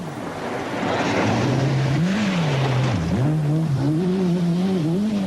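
A Toyota Celica Twincam Turbo rally car drives past with a loud, continuous engine note that climbs and wavers through gear changes, sounding sustained and fairly close.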